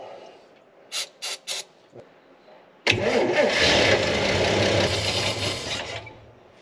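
An old vehicle called Old Yeller, suspected of a weak fuel pump, gives three short bursts of cranking, then the engine catches and runs roughly and loudly for several seconds.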